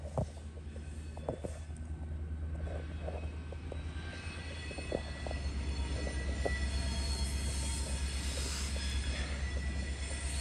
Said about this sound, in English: Unit boxcar train.